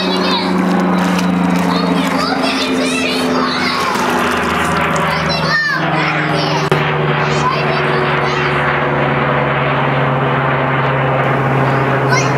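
A propeller airplane drones overhead above a swimming pool, a steady low hum that persists throughout beneath children's voices and an adult talking.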